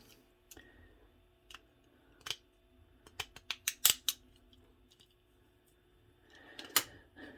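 Parts trimmed for a slammed M02 Blackfoot RC truck, heard as a series of quiet, sharp snipping clicks, some in quick succession, close up with a soft background hum and no talk.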